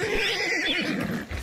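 A horse in the Hunt: Showdown 1896 game lets out a single loud, close whinny lasting about a second, with no talking over it.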